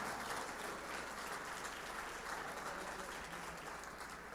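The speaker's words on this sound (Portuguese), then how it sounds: "Aplauda com força ao Senhor" A church congregation claps together in a dense, steady wash of applause that fills the room evenly, heard from a distance at low volume without clear voices.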